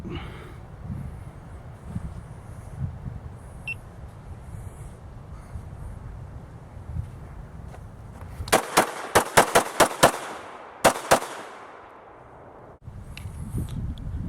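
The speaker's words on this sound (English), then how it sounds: "see how we do with this FNS 40, like pulling from a holster and staying on target" Rapid shots from an FNH FNS 40 S&W handgun drawn from a holster outdoors at a target on plywood, a quick string of about eight sharp cracks after a quiet wait, loud and close.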